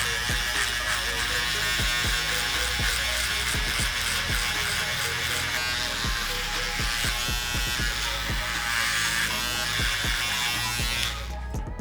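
Close, loud, steady buzz of a Prodigy electric clipper running nonstop for about twelve seconds as it shaves hair upward against the grain during a textured crop skin fade, with faint ticks of the blade through hair.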